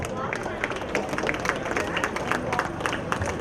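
Audience applause at a Rajyotsava prize distribution ceremony, a steady wash of many hands clapping through the whole stretch with crowd murmur underneath.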